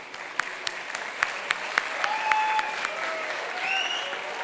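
Applause from a convocation audience, a dense bed of clapping with several sharp, distinct claps standing out, and whistle-like tones and murmuring voices drifting over it.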